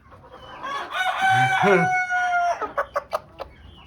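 A young rooster, a grown chick with a large comb, clucks in a string of short nasal calls, with a brief crow-like call early on. It is close and clear, with no talk over it.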